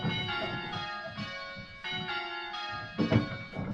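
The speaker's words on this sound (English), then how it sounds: "So I've got plain hunt minimus on here." Simulated church bells on a four-bell set ring plain hunt minimus, with a steady run of clear, overlapping strikes whose ringing tones sustain and blend, moderately loud with no talk.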